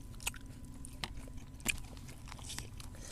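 Grilled chicken and papaya salad eaten outdoors by a rice field, heard as close, quiet, crisp bites and chewing crunches at an irregular pace, with no talk.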